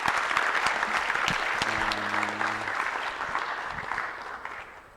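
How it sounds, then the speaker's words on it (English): An audience applauds after a scientific lecture, a full burst of many hands clapping that starts strong and gradually tapers off, with a brief faint tone sounding partway through. "let's have a applause for Paul"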